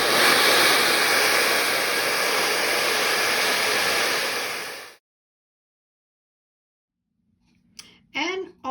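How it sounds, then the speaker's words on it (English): A hair dryer on high heat runs loud and steady for about five seconds, then cuts off into silence before a brief voice speaks at the end. "you're just going to start your hair dryer on a really high"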